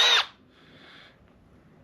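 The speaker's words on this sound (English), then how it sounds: "this end would be attached to a drill. So stick it in the drill, tighten it up" A power drill spinning an engine valve for lapping gives a loud short whir that cuts off, followed by a faint fading hum, alone with no talk.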